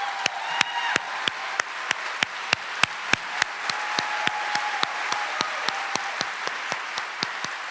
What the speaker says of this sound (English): Let's give the parents a round of applause